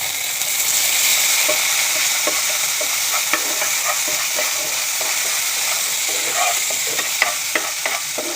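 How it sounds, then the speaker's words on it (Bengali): Small shrimp fry in hot oil with cumin seeds and green chilies, a steady close sizzle with scraping stirs of a spatula throughout, no voices. "এখন আমি কিছু কুচো চিংড়ি দিব, মানে ছোটো চিংড়ি।"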